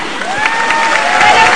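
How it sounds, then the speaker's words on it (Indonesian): Crowd at a Golkar party political rally in Indonesia cheering and clapping, a loud continuous roar with shouts rising over it, briefly and close. "Kita boleh berikan tepuk tangan."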